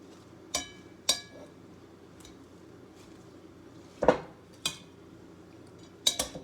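Metal cutlery scrapes and clinks against a bowl while mixing a simple French salad, with sharp separate strikes spread irregularly over several seconds in an otherwise quiet room.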